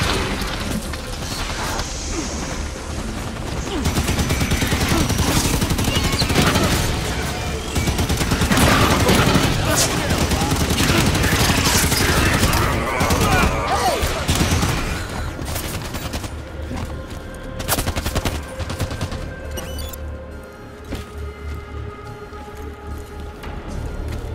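Halo 5 firefight: dense rapid gunfire and automatic bursts with booms, loud and continuous through the middle, thinning into scattered shots toward the end, with voices talking at times.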